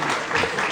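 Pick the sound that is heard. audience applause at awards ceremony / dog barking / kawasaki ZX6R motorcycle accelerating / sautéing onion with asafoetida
audience applause at awards ceremony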